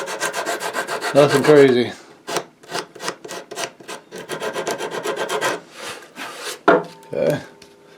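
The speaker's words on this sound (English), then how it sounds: "we're going to take a little sandpaper and rough down these edges." Sandpaper rubs back and forth along the edges of a wooden dulcimer, a close, steady run of rasping strokes with short pauses between, and someone speaks briefly near the start.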